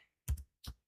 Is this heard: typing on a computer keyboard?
yes